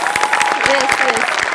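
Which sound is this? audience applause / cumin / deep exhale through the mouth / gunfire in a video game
audience applause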